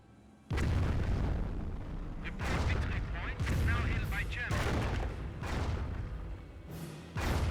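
Nebelwerfer rocket artillery firing in Company of Heroes: a rapid series of loud rocket launches and booming impacts in close succession, with whooshing, rumbling bursts packed together and a faint voice underneath.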